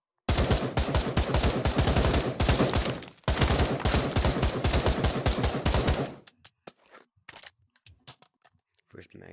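Rapid automatic gunfire at a gun range in Pavlov VR, with loud close bursts of dense shots separated by a brief pause, then scattered single clicks and mechanical handling sounds as the firing stops.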